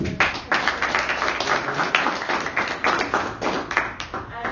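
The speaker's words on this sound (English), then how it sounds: "maybe we can give one another round of applause" Audience at a social entrepreneurship talk on a sportswear venture claps in a brief round, a dense patter of hands with sharper individual claps poking through, fairly close and steady for several seconds.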